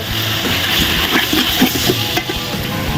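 Beef caldereta sizzles and fries in a pan while being stirred, a steady loud hiss with scraping clatters throughout, cooked for a catering party.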